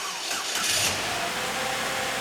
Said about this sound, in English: First thing you want to do is to start your vehicle.